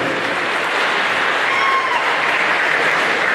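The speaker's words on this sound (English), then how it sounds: "Clap that up." Crowd clapping at a college men's basketball game, City College of San Francisco vs Chabot College, honoring graduating sophomores: a short burst of steady applause that fills the gym.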